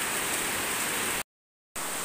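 Steady rush of rain, a dense hiss broken by a half-second gap of total silence before it resumes.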